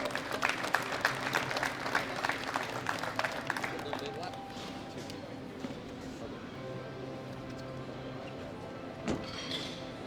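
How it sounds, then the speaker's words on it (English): Applause from a crowd honouring junior powerlifting medalists at a world classic championship, loud scattered clapping at first that fades after a few seconds into a quieter hall with a hum and murmuring voices. "please give them the round of applause to the best 3 athletes in juniors up to 105 kilograms squat"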